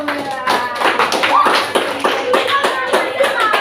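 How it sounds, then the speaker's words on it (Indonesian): Classroom applause for a student group, a burst of sharp hand claps from a small group, uneven and close, with children's voices and talk mixed in. "tepuk tangannya untuk kelompok audio"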